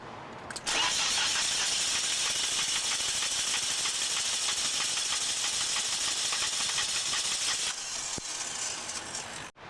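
A car engine is cranked over by the starter during a misfire and no-start diagnosis: a loud, steady whirring and rattling churn that runs for about eight seconds without catching, then cuts off abruptly.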